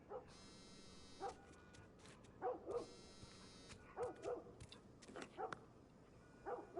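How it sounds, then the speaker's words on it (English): A dog in the video game The Last of Us barks repeatedly in short paired bursts, faint and somewhat distant, over a low ambient background. "Notice the dog barking."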